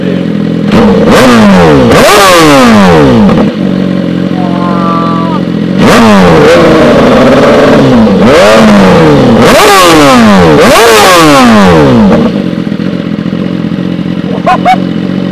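A carbon-bodied BMW S1000RR sport motorcycle rated at 200 hp revs hard several times, each throttle blip climbing to a loud scream and falling back to a steady idle, close to the listener.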